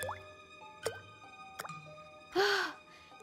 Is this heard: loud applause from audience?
no